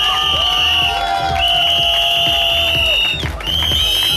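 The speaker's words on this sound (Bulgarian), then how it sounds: "Айде, че има още веднъж аплодисменти за Ро, много да моля!" A large audience cheers and applauds loudly and close up, with shouts and whoops over the clapping and long shrill whistle tones cutting through the roar.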